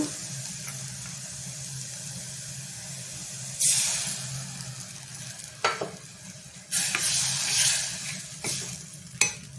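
Ridge gourd peel frying in a pan, a steady close sizzle and hiss with several louder bursts of spitting and scraping as the pieces are stirred.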